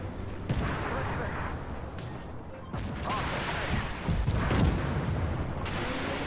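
M1 Abrams tank turret gun fire in a war video game, a few heavy booming shots at irregular intervals amid constant battlefield rumble and mechanical noise, with voices intermittently over it.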